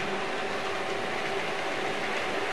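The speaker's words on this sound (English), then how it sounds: "Let's get a flyby." A Hornby Flying Scotsman model locomotive runs past with a steady, continuous rail rumble and rolling hiss, moderately loud and without pause, no talking.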